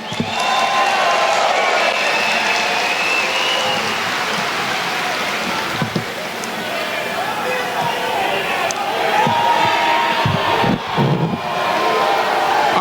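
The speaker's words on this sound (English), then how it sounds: "Let's give her a big round of applause." A large outdoor political rally crowd in Kissimmee, Florida, cheering and applauding in a loud continuous roar, with a few louder bursts and voices mixed in.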